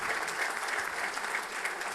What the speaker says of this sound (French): nous vous demandons d'applaudir le lauréat